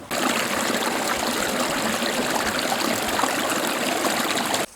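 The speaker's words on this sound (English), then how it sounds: "You can hear the actually water running underneath the rocks" Creek water runs underneath rocks at a lake outflow in Algonquin Park in autumn, a steady, close trickling and gurgling that holds even for a few seconds with no voices.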